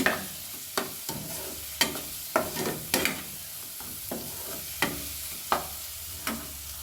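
A spiced mixture with chili and salt cooks in oil in a pan, giving a low continuous sizzle broken by sharp clicks and scrapes from a spoon stirring at irregular intervals, close and fairly quiet.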